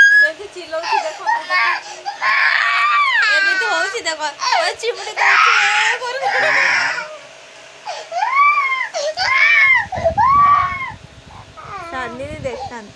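A small child cries and sobs at home, wailing in repeated rising and falling bursts, with adult voices talking between and over the cries.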